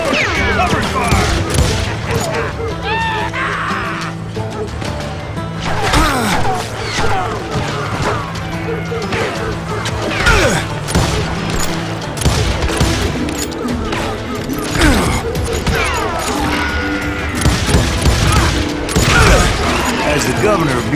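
Gunfire in a Call of Juarez: Gunslinger shootout, dense loud volleys of rapid shots and booming impacts running continuously, with shouted voices and music mixed underneath.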